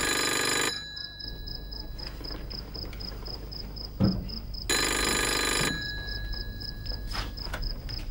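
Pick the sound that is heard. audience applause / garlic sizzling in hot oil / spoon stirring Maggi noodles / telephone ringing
telephone ringing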